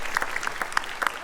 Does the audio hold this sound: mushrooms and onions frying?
no